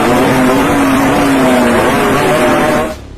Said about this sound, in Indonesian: Suara knalpot yang keluar bisa berkali-kali lipat lebih kencang dan cempreng dibanding knalpot racing biasa